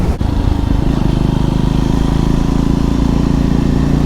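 A 400cc motorcycle rides along a twisty A road, its engine a loud, steady, throbbing drone with low rumble and wind buffeting throughout.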